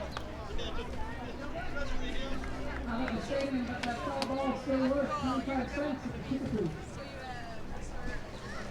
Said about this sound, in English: Crowd streaming in, ready for the fireworks show tonight